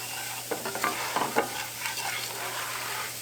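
A flour and oil roux sizzles steadily in a hot pan while a utensil scrapes and stirs in short, uneven strokes close by, with no one talking.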